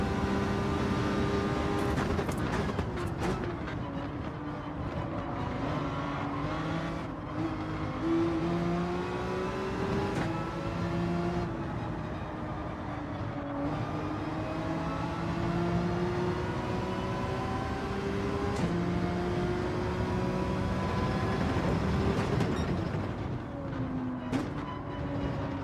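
Race car engines in Gran Turismo 7 drone steadily, with a Lamborghini among them, rising and falling in pitch through gear changes and corners, a continuous loud whine with no talk.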